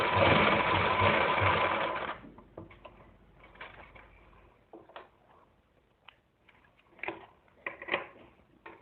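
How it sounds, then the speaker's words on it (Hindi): A sewing machine runs fast and loud while stitching the neckline of a Naira cut dress, then stops after about two seconds, leaving quiet handling clicks and fabric rustles. "इस तरह से सेंटर से सिलाई लगाएंगे।"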